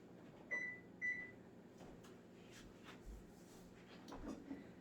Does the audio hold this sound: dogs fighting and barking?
no